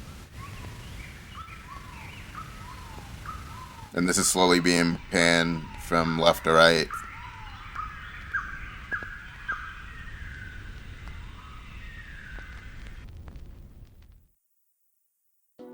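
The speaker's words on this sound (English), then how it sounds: "for ambience, I put some birds chirping, forest sounds." Outdoor forest ambience with birds calling and chirping in the background, used as an ambience layer in a lofi trap beat, while someone talks briefly over it before it fades out.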